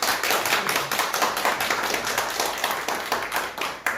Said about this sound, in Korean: 귀한 목사님 우리 박수로 환영합시다